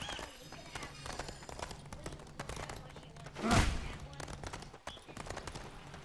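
Horse hooves clip-clop in the Toy Story 3 video game, a run of light rhythmic taps with a heavier thud midway, mixed with game sounds and a voice talking over them.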